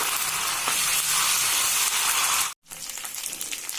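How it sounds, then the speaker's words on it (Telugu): Ginger garlic paste frying with onions in a pan for fenugreek-leaf chicken, a steady loud hiss and sizzle that cuts out briefly near the end, then resumes. "అది కూడా పచ్చి వాసన పోయేంత వరకు ఫ్రై చేసుకోవాలండి."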